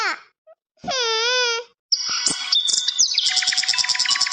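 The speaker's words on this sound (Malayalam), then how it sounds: "അമ്മ കേട്ടില്ലേ കിളിയുടെ ശബ്ദം" A bird gives a long wailing whistle, then a burst of rapid, bright chirps and trills, loud and close in otherwise quiet surroundings.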